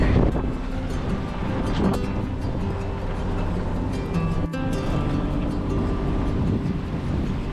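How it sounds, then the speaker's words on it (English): A cruising sailboat motoring under engine with its jib up, heading for West Palm Beach: a steady low engine drone blends with rushing wind buffeting the microphone and water noise, continuous and fairly loud throughout. "now we are motoring and sailing with the jib"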